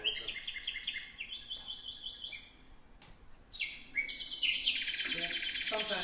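Nightingale song fills the recording with varied, repeated whistles and rapid high trills in successive phrases. The birds sound moderately close over a faint steady background.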